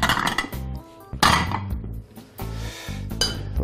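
Leftover dishes are gathered in a home kitchen, with plates and pots clattering and clinking in bursts over quiet background music.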